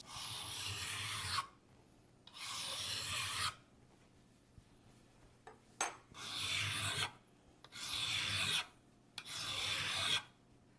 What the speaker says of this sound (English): I want to go ahead and hit these edges with a file just to relieve them and make sure there's no burrs sticking out on the sides or on the bottom